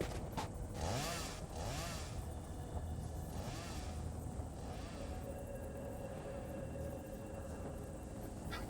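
A chainsaw cuts down trees in the video game Satisfactory, a continuous loud buzzing motor drone that runs steadily through the whole stretch with slight surges.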